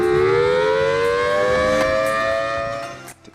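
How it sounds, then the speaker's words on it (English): A tornado siren sounds on a remote airfield, a loud sustained mechanical wail with a slowly rising pitch that holds steady, then winds down and cuts off near the end. "From tornado sirens"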